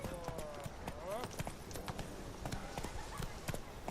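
Hooves of Geralt's horse Roach clip-clop steadily in The Witcher 3, a brisk rhythmic patter mixed with game music and ambience while a person talks over it.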